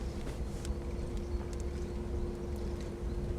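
A steady, low mechanical rumble with a constant hum runs evenly throughout as an Eberspächer diesel parking heater starts up nearby, at its loudest during startup.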